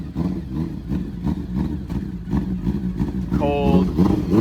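A BMW 335i with the N55 engine revving loudly in short pulses, its rough mid-pitched note steady throughout, with people shouting over it and a brief whine near the end.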